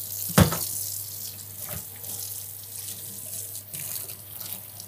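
Tap water runs steadily into a sink, rinsing a native-ingredient curing mixture of sea parsley, sea celery and lemon myrtle off food in a workshop kitchen, with a sharp splash near the start and no talking.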